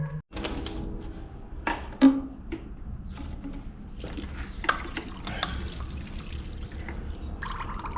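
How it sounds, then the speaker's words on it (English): Coolant drains from a 1951 Farmall M tractor, a faint liquid trickle and dribble with a few sharp knocks and clinks along the way, heard alone without talk. "the first step to this whole process is just draining the coolant"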